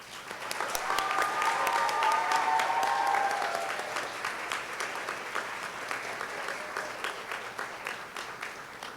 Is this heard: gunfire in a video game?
no